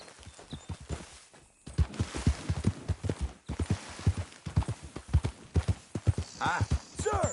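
Horse hooves clip-clop in a steady walking rhythm in the video game Red Dead Redemption 2, close and clear, with a brief pause before the plodding resumes.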